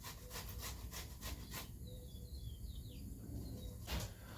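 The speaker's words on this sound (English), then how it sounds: "you're going to grate each tomato one by one until that's all done" Fresh tomatoes grated one by one by hand on a grater for a quick spaghetti sauce, a steady rasping scrape in repeated strokes, close and fairly loud, with a brief lighter passage midway.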